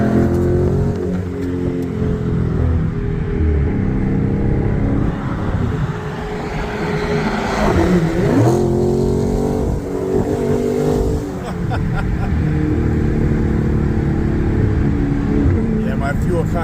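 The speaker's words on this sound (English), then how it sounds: "The 392 package is a lot of fun. I mean, just you hear this car." A Dodge with the 392 engine package revs loudly and close by, a deep, throaty roar that climbs and falls in several pulls, with people talking underneath.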